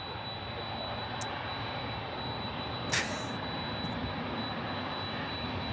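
A jet airplane on approach at Memphis International Airport gives a steady, distant broadband roar that holds evenly throughout, with no voices.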